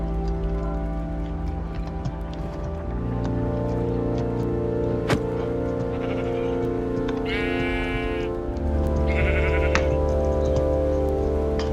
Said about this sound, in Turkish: Şu koyunu da yanıma spam edeyim.